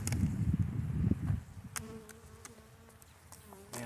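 Honey bees in a February winter hive with an insulated roof buzz loudly and close for the first second or so, then the hum drops low beneath scattered light clicks and taps.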